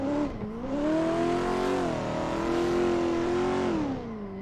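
A competition drift car's engine held high in the revs after a clutch kick coming off a bank, a sustained loud drone that climbs, dips and rises again, with no talk.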